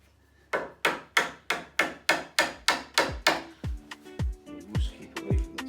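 A steady series of about a dozen sharp hammer blows on a chisel, prising square edging off a kitchen worktop, evenly spaced and close, the later strikes duller and more resonant as the edging loosens.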